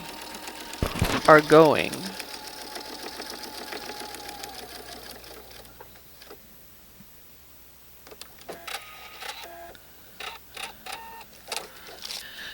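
A sewing machine stitches quilt fabric along a marked line, whirring briefly up close near the start, then fading into a quieter room with a voice talking and small handling clicks.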